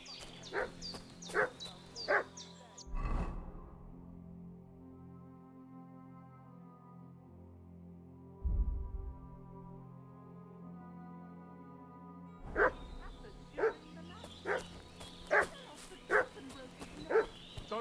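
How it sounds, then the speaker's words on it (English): A dog barks and yips in the medieval world of Kingdom Come: Deliverance II, with bursts of close, sharp barks at the start and end separated by a quieter stretch with a thud or two. "What's that dog making such a fuss about?"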